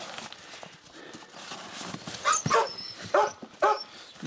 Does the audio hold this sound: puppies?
yes